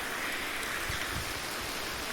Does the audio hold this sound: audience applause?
no